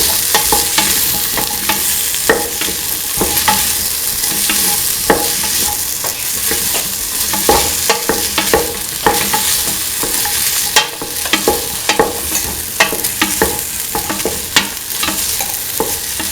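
A spoon stirs a mixture of tomato, green chili and spices in a hot pan, giving steady loud sizzling throughout with frequent scraping clicks.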